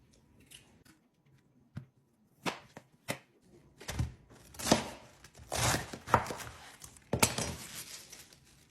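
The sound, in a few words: knife chopping potatoes and vegetables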